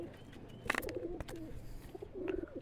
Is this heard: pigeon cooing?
yes